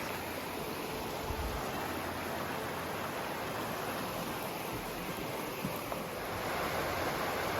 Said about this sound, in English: And here's Junction Creek.